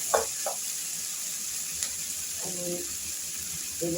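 Whole garlic cloves drop into hot oil and set off a soft, steady sizzle, a faint, even hiss heard alone. A few brief clinks and knocks of cookware break through it.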